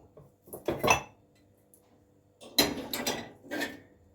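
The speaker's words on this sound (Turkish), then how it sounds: "İşte şimdi bulaşık." Washing dishes by hand at a home kitchen sink: two bursts of clattering plates, pots and cutlery, close and fairly loud, separated by a short quiet pause, with no talking.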